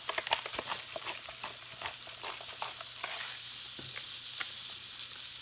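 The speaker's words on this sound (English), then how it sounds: "we're going to throw in our red bell peppers. Stir that in there." Red bell peppers and garlic sizzle in a hot pan as they're stir-fried, with quick scraping stirs and crackling spatters, close and moderately quiet, no talking.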